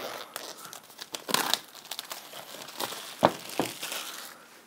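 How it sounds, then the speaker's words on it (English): Plastic wrap being ripped off a OnePlus One 64 GB Sandstone Black phone box, a run of close, dry crinkling and crackling with a few sharper tearing bursts, no talking. "So we'll go ahead and rip this plastic off here."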